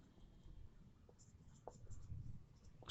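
A pen or marker writes on a board in short, soft strokes, faint and close, in an otherwise quiet room.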